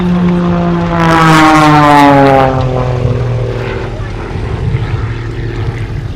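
A propeller aerobatic plane makes a final inverted pass at the 2019 Omaka Airshow, flown by an unlimited aerobatic champion pilot. The engine drone swells as it approaches, then falls in pitch as it moves away, under a commentator's voice.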